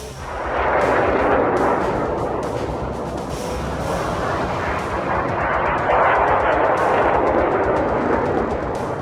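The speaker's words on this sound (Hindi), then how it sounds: "ईरान की तरफ से फिर से मिसाइल अटैक लॉन्च किया गया।" A missile attack in news footage brings a loud, continuous roar of explosions and heavy gunfire with dense rumbling and crackling, constant throughout with faint sharper bursts on top and no speech.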